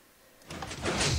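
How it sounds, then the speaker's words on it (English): A 4x2 piston door in Minecraft opens with a short, soft mechanical whoosh and clunk that swells over about a second, heard alone without talk. "this is the piston door"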